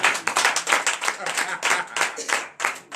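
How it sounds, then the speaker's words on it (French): A congregation at a morning prayer service claps and acclaims in a few loud, uneven bursts, close and energetic, with voices mixed among the clapping. "Donnez encore l'acclamation"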